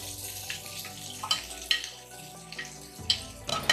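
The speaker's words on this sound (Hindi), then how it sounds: "थोड़ी प्याज हमने बचा लिए, इसे भी सॉफ्ट होने तक पकाएंगे" Onions softening in a pan for mutton keema, a soft, fairly quiet sizzle with a few light stirring taps and scrapes scattered across a few seconds, no talking.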